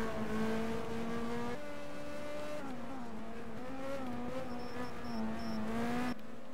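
Race cars in a sim racing league event at Zandvoort hold a steady engine drone, shifting pitch as they run together, loud and continuous with a brief cut near the end.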